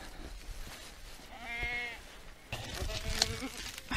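Sheep bleat during a morning feed, a wavering call rising over ongoing rustle and background noise, followed by further bleats from the flock amid farm sounds.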